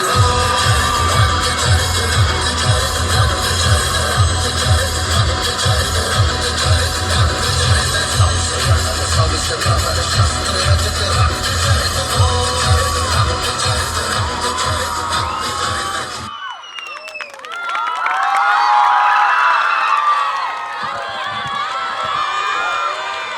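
An audience at a family community get-together and education ceremony cheers and applauds after a performance. Loud rhythmic music with a pounding beat cuts off abruptly, and a lively burst of crowd cheering, whistles and clapping follows.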